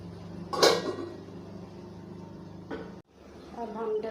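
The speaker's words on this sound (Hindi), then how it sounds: "अब इसका ढक्कन ऊपर बंद कर देंगे।" A lid is set down onto a pot of bhindi chicken: a single sharp metallic clank near the start, then a later knock and a brief scrape, close by, with soft kitchen clatter and a voice speaking underneath.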